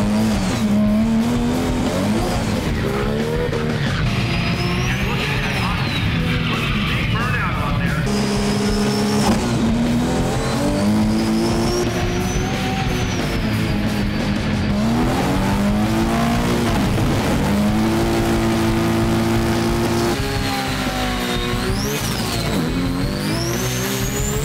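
A Nissan R32 Skyline GT-R drag car with an HKS T51R turbo doing burnouts, engine revving hard and rising in pitch over a loud continuous roar, with sustained tire squeal and skidding, close and intense throughout.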